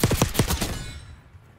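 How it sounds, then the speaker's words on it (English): A 9MM PM pistol fires in Black Ops 6 in a quick burst of about five loud, close shots, then a fading echo trails off into quiet. "It's crazy I could shoot that far with a pistol and get a kill."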